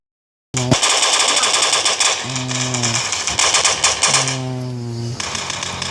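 Rapid automatic gunfire from the video game Standoff 2, shooting through walls, rattles in dense continuous bursts that stay loud from start to finish, with a few brief tonal game effects between bursts.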